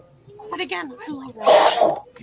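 A sneeze bursts out loudly right after a short line of speech, one sharp explosive sound that dominates the brief moment.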